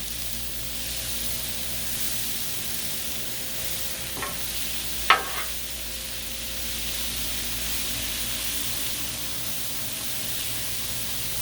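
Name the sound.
tortellini and peas mixed on Blackstone griddle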